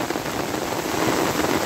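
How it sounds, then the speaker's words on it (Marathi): Heavy monsoon rain pours down over flooded farmland, a dense, loud, unbroken hiss of drops drumming on surfaces with no voices. "आता तर खूप जोरात पाऊस आलेला आहे"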